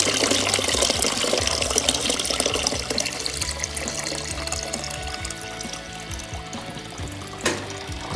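Water runs and splashes steadily through a margarita machine's tank during rinsing, a continuous watery wash with a brief louder splash near the end and no talk.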